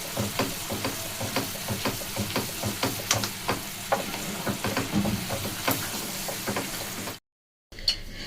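Corn flour being stirred continuously in hot white oil in a pan for corn flour laddu, with steady frying sizzle and repeated scraping stir strokes, near and loud, then a brief drop to silence near the end.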